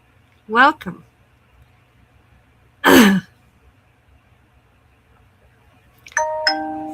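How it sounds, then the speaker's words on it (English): A phone's YouTube notification chime gives a short ding-dong near the end, indoors during a crochet craft session. Earlier come a breathy sigh-like voice sound and a brief burst of noise, over a low steady hum. "That's my phone going ding dong."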